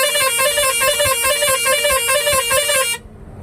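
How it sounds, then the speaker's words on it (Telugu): A vehicle horn blares on a ghat road, one loud, steady, unbroken honk lasting about three seconds before cutting off sharply, with no talking. "హారన్ కొట్టాలి, లేకపోతే ప్రమాదం."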